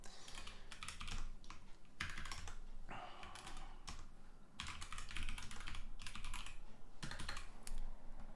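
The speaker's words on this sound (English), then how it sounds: "I'll type it again." Steady typing on a computer keyboard while installing software, with rapid clicking keystrokes in irregular bursts and short pauses, close and fairly quiet, with no talk.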